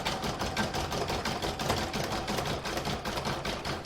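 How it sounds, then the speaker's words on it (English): An embroidery sewing machine threaded with orange-gold thread runs decorative stitching on a quilted crazy-patch bag panel, a steady, fast mechanical whir and rapid needle clatter continuing close and constant throughout. "And now the decorative stitching, which is round number 9"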